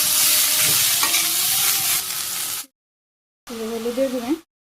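Vegetables fry in oil with cumin seeds and chopped onion in a Bangladeshi village kitchen, a loud steady sizzle with stirring scrapes, then a cut to silence and a short stretch where someone talks over fainter frying.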